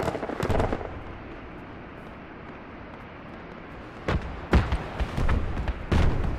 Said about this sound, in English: I hear 3 round burst.